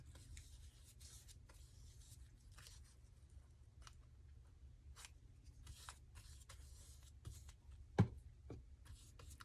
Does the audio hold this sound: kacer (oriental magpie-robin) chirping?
no